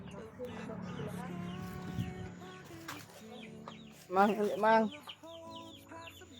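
Pet chickens cluck nearby, and a loud burst of squawking clucks breaks out partway through. People talk casually over the birds.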